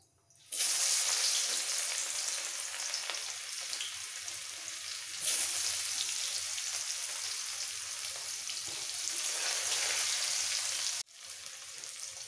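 Chopped onion frying in hot oil with black cumin: a loud, continuous sizzle that starts abruptly, holds steady with slight surges, and briefly drops out near the end before resuming.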